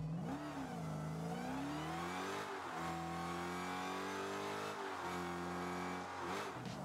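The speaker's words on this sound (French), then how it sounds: "on va directement faire en premier temps le bruit de la voiture" Dodge SRT Hellcat engine revving in the video game Rocket League, a loud continuous V8 roar with rising and falling pitch as the throttle swells and eases, heard alone.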